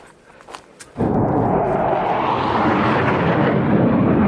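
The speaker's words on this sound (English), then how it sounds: "military helicopters" A loud, steady rumbling roar of military helicopters passing overhead on the Appalachian Trail starts abruptly and stays constant, drowning out the quieter outdoor background before it.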